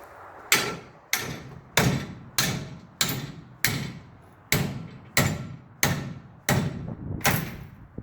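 Eleven heavy, evenly spaced thuds ring out about every 0.6 seconds as a baseball bat is struck against a part on a Jeep Liberty KJ while a highlift is being fitted. The impacts are loud and close with brief decays, and nobody speaks.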